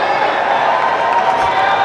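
A crowd at a school football match in the SSFL Premiership, San Juan North Secondary against East Mucurapo Secondary, roars and cheers in a brief, loud swell of many voices.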